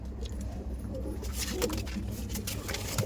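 Giribaj pigeons cooing softly in a loft, with low repeated coos and faint fluttering and shuffling close by over a steady background hum, no talk.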